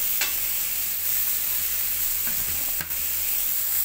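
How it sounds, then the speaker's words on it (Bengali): A little water goes into a pan of frying oats and vegetables for a vegetable khichuri, giving a steady hiss and sizzle with a couple of sharp clinks of the spoon against the pan. "সামান্য পানি অ্যাড করলাম"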